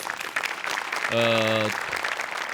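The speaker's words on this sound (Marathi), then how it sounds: "श्रद्धा आज विशेष करून सेटिंग आणि म्युझिक डिपार्टमेंटसाठी टाळ्या वाजवल्या पाहिजेत." An audience at a stage comedy show claps in a dense burst of applause for the setting and music department, with a brief voiced tone rising over the clapping midway.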